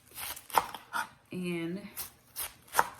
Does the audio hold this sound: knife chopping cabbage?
yes